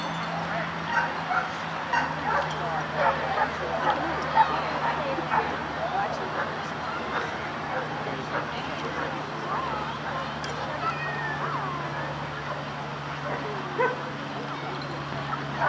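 German Shepherd puppies at a dog show yip, whimper and bark in scattered bursts over a steady hum, with people talking amid the crowd noise.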